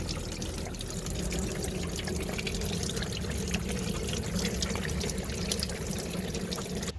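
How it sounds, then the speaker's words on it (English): Engine coolant drains steadily from a 2013 Honda Pilot with a 3.5L engine into a bucket, a continuous close trickling pour that keeps an even level throughout with no talking. "Just enough to let the coolant drain out."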